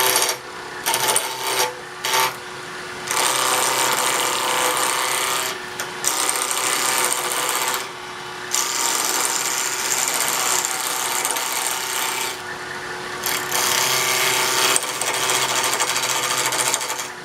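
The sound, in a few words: wood lathe turning a wooden knob with a bowl gouge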